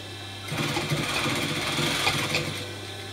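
After a low background hum, a sewing machine starts up and runs a narrow stitch along a butterfly-sleeve dress, a close, steady buzzing whir that continues to the end.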